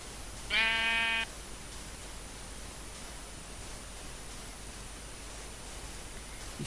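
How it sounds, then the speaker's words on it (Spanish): A single sheep bleats in Minecraft, one short tonal call early on, over a steady low hiss of background noise, followed by quiet ambience. "Historias de una oveja bizca."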